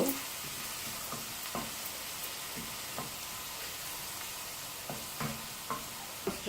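Garlic frying in hot oil crackles with a dense, continuous sizzle, broken by regular light taps and scrapes of a stirring spoon against the pan.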